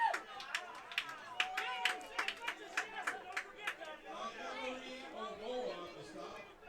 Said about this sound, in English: Crowd getting very vocal here late in the game.